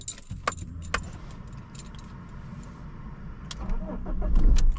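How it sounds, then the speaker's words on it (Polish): A BMW E-series car with a 150 hp engine, running on LPG, cranks and starts close by, with a jingle of keys at first and the engine noise building toward the end. "Auto odpaliło."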